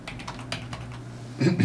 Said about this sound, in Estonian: Siia kirjutame sisse näiteks reis mägedesse.